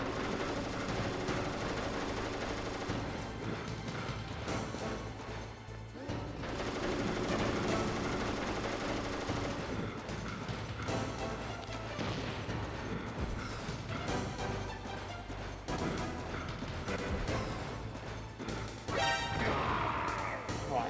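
Stinger missiles blast in Metal Gear Solid, with loud crashing explosions and whooshes layered over dense, continuous game music and action noise, heavy and relentless throughout.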